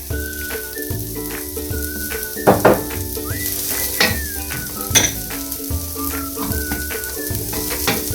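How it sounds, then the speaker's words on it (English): Onions sizzle in a preheated cooking pan while being stirred, a steady close frying hiss broken by repeated scraping and clanks of a utensil against the pan, with a brief whistling tone over it. "So I have preheated my cooking pan. I want to add in the onions."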